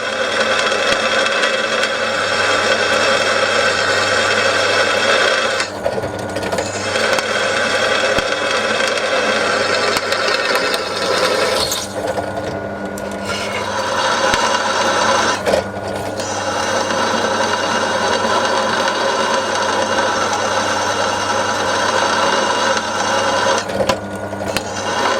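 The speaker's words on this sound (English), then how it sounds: "Gotta take it easy, there's not much guts in that drill." A small, underpowered drill runs steadily while a shop-made knurling tool presses an M8 metal workpiece, a continuous loud mechanical whir with brief dips and catches throughout, and no talk over it.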